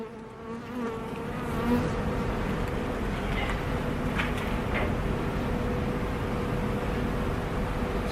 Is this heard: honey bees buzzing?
yes